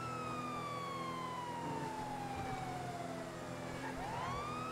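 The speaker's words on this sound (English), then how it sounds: "We're gonna pull off our siren in a second." A police car siren in GTA 5, a steady wailing tone that sweeps slowly downward and then rises again, over a constant engine and road rumble, moderately loud with no talking.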